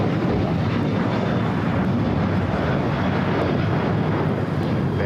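An airliner takes off from runway 25 right at LAX, its engines giving a continuous dense roar that stays loud and even throughout, with a little wind buffeting and no clear talk.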